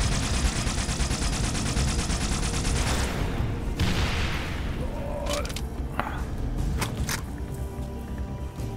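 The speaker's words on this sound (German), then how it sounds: "Ball einfach mal drauf, irgendwas werde ich schon treffen." Rapid gunfire and explosions from the video game Halo: Spartan Assault, with dense, continuous shooting that briefly thins out before scattered shots and bursts return.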